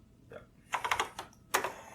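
Keys are struck on a TRS-80 computer keyboard in a quiet room, giving a few quick, sharp clicks in two short bursts. The taps are faint and stand alone with no voices.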